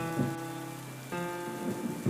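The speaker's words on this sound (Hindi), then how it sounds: "सूखी धरती पर बूंदें गिरती है और अचानक बारिश होती है" Rain pattering steadily onto dry ground, a continuous close wash of drops with a few heavier bursts, no voices.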